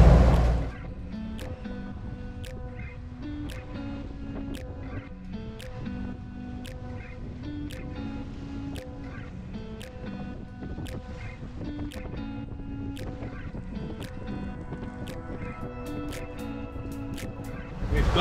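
A sailboat motoring under engine power on the open sea toward the Marquesas, with a steady low engine drone and water wash running throughout, and faint regular ticking or knocking on top.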